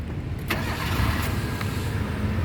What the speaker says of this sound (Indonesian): Sekarang kita coba langsung start mobil.